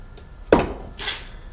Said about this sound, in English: I'm using a chisel and a dead blow hammer.